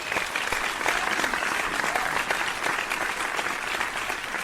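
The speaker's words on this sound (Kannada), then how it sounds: "ಮೊದಲು ಈ ಎಲ್ಲ ಕಿಶೋರಿಯರಿಗೆ ನಮ್ಮ ಚಪ್ಪಾಳೆ" Audience applauding for a group of adolescent girls, a steady dense wash of clapping that holds strong from start to finish with no talk over it.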